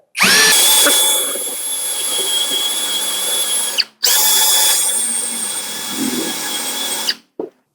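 A Lucid LX-60 cordless drill runs at high speed in two long whining bursts of about four and three seconds, each spinning up sharply and cutting off abruptly, close and loud with no voices.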